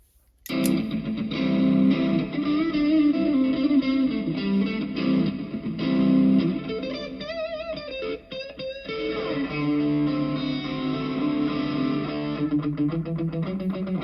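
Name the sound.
guitar through LEKATO multi-effects pedal with reverb on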